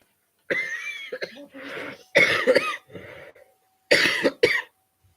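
A coughing fit during a live gaming stream: several harsh, throaty coughs in bursts, close to the microphone, separated by short silent gaps.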